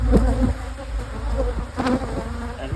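Honey bees swarm around newly set up hives during a honey flow, a dense steady buzz close by with individual insects droning past the microphone, no voices.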